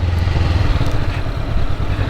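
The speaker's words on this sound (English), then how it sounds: "I do love the pops and bangs on the exhaust on these" A Honda NX500 motorcycle engine runs loud and close with a rough, throbbing exhaust note and irregular clattering pulses, though no distinct pops or bangs stand out.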